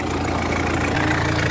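A Mitsubishi Pajero 4M40 diesel engine idles loud and close with a steady, even rumble and a faint knocking clatter, no voices.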